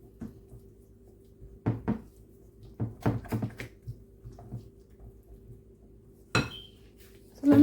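Leftover seasoning powder is mixed into a fish paste in a bowl for a Jamaican-style roast fish, with scattered clinks and knocks of a utensil against the bowl over quiet pauses.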